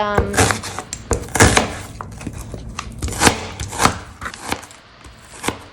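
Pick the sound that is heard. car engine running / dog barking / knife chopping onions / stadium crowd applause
knife chopping onions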